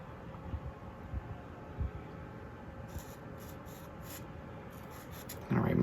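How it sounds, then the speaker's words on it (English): A pen or marker writes a first name and a friend's name on a paper best-friends craft, a soft continuous scratchy rubbing close up with light tapping, ending in a louder burst of handling noise. "I'm going to write my name on one half and my best friend's name on the other"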